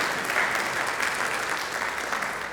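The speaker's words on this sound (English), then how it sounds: "So, yeah, we can applaud at that." A concert audience at a community orchestra performance claps in a brief, even wash of applause for a couple of seconds, moderately loud and easing slightly toward the end.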